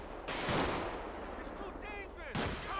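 Shotgun blasts in the GTA 5 LSPDFR police mod, two heavy booming shots about two seconds apart, loud and close, with game noise and a voice underneath.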